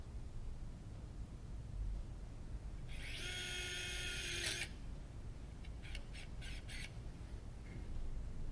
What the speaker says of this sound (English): the lateral cortex is first opened by drilling